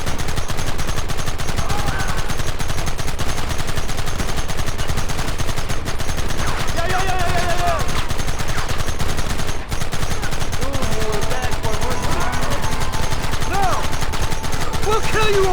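Heavy, continuous gunfire rattles without pause in a firefight in Red Dead Redemption Remastered, loud and dense, with shouting voices mixed into the battle.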